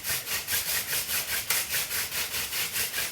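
A hand drill spindle for friction fire spins rapidly against a wooden hearth board, producing a rhythmic rubbing whoosh that pulses back and forth about twice a second, close and steady with no voices.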